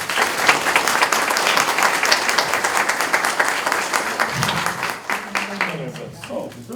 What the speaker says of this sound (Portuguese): Mais uma vez, uma salva de palmas para ele.